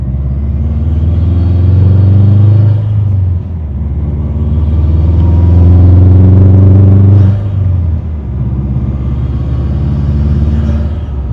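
A Subaru WRX with a Cobb intake is revved three times up close, a deep rumbling engine note swelling and falling back with short dips between each rev.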